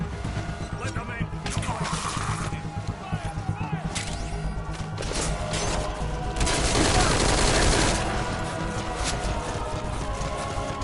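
Continuous gunfire from a Metal Gear Solid V: Ground Zeroes battle, a dense busy mix of shots and bursts rising louder toward the end, with voices talking over it.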